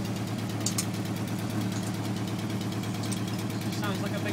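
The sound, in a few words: VW Golf Mk2 turbo engine idling with blowing exhaust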